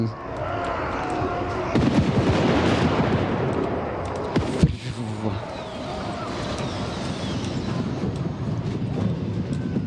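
Artillery fires during battle in the Warhammer Vortex campaign, with Karak Azul dwarfs fighting ratmen. Booming shots and a heavy impact sit in a dense, continuous din of combat noise, with some talk mixed in.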